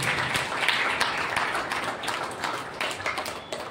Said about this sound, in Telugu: అందరూ కూడా చప్పట్లు కొట్టి దేవుని నామాన్ని మహిమపరచండి